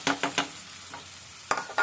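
Mixed potatoes are tipped into a hot pan and stirred, with a few short scraping stirs and light sizzles in two brief bursts separated by a quiet pause.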